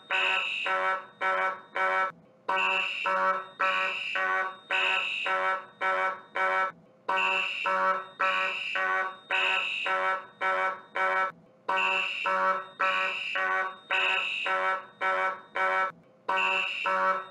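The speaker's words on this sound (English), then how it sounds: "I'm going to pull up the fire alarm." A school fire alarm blares in long repeating electronic bursts with brief gaps between them, loud, harsh and steady for many seconds with no voices.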